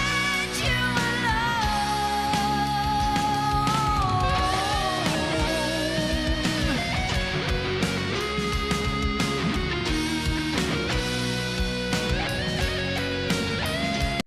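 Gibson Les Paul electric guitar ad-libbing over a dense full-band mix, sustained bending lead lines riding on steady drums and bass at constant loudness throughout.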